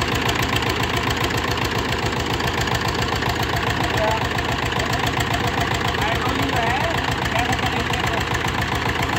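A 1970 HMT tractor engine with self-start running steadily close by, giving a loud, continuous rhythmic chugging throb that holds without a break.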